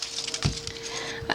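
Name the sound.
knife cutting the ends off an onion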